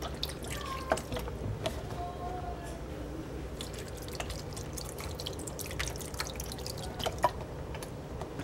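Broth pours into a crock pot for cabbage soup, a close, steady liquid stream with dripping and splashing, overlaid by kitchen handling clicks and a voice talking.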